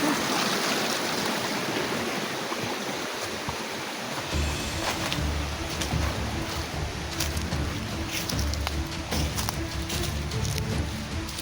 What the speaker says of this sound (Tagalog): Nandito kami ngayon sa gilid ng ilog.